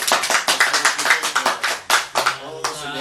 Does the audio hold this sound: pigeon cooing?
no